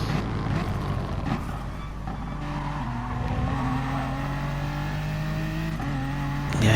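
Racing car engine in a motor racing video game at Sardegna, steady droning revs with rising and falling pitch through gear shifts, continuous and moderately loud.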